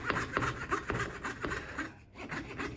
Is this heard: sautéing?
no